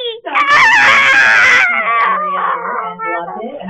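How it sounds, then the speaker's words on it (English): Puppy whining close and loud in a long, high, wavering cry that breaks into shorter whimpers and moans, with a voice speaking nearby. "Puppy!"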